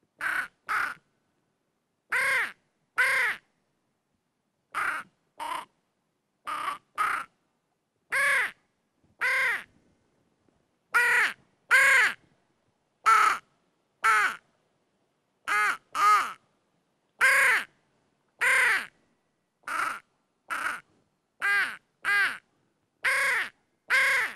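A hand-blown game caller imitates the call of the hooded crow, producing loud, close, raspy caws repeated steadily in short bursts and pairs with brief silent gaps between them.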